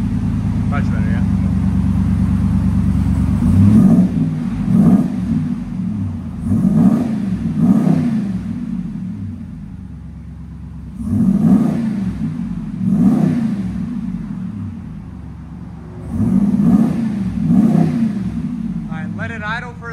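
A RAM 6.4L V8 truck engine revs hard in repeated bursts, roaring up and falling back to a deep, loud idle between pulls.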